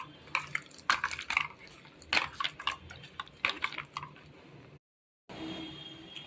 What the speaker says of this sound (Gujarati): પાણી ઉકળવા લાગ્યું છે